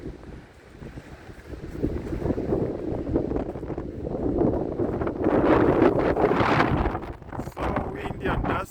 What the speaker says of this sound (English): So windy and dusty today.